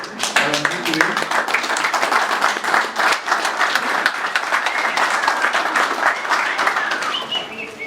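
An audience applauding at an event in Cameroon: dense, sustained clapping from a large crowd, loud and close, continuing without a break throughout.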